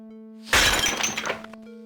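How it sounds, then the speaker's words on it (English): A glass jar of marmalade smashes loudly in the Death Gate video game, a single burst of shattering glass with scattered tinkling fragments that quickly fade over a steady low hum. "you heave the jar of marmalade at the spider. It strikes dead center and smashes open."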